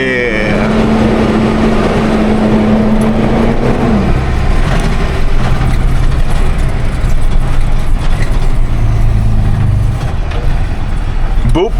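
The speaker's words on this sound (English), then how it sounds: "Can you guys hear that engine noise?" A loud, constant engine rumble and road noise from inside a moving car on a long highway drive to Palmdale, with a brief low tone early on and no clear talking.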